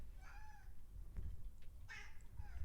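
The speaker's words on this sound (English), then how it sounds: "it looks like the cat wants some keto food." A house cat meows several times in short, rising calls, near and fairly quiet, with soft household shuffling in between.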